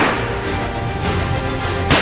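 Firing from across the border in the Samba sector, with Pakistani fire targeting BSF posts, comes through as a dense, continuous rumbling roar of distant gunfire with a sharper crack near the end, and no talk.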